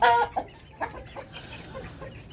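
A young rooster (stag) clucks close by in a few short, throaty bursts over a quiet farmyard background, with no talk.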